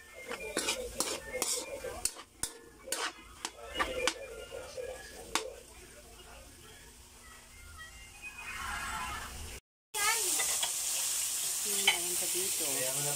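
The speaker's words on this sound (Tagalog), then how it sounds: "Nagisa ko na yung ating biniling hotdog at saka mushroom." Hotdog and mushroom sizzle in a frying pan while a utensil stirs and scrapes against it in repeated bursts, close and fairly loud, and the frying grows steadier and brighter toward the end.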